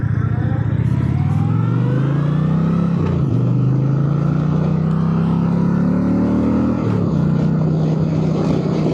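A 2026 Indian Chieftain PowerPlus Dark Horse motorcycle with a 112 engine drones loud and close, its pitch climbing steadily through gears with two short dips as it shifts.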